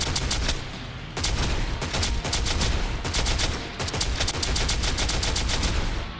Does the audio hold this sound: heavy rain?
no